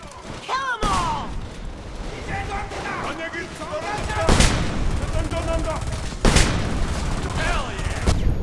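Gunfire erupts during a street ambush in the shooter Homefront, sharp cracks and bursts with heavier booms over continuous battle noise while voices shout and talk throughout.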